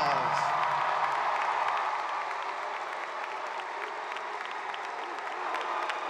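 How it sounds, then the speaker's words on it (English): A crowd of family and friends at the 2021 Hampton High School graduation ceremony gives the graduating class a long, steady round of applause, dense clapping that holds at an even level throughout. "Family members and friends, please join me in giving these young people, the class of 2021, a round of applause"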